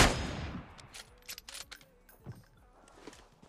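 Gunfire in the shooter game PUBG Mobile, a loud burst at the start followed by several quieter scattered shots and sharp cracks, with faint game noise between them.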